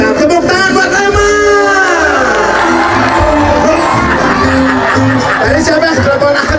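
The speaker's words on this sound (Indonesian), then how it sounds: "tepuk tangan buat Lema" Lively stage-show crowd cheering, whooping and shouting at high volume, with a voice singing or calling out over the din and the roar staying dense throughout.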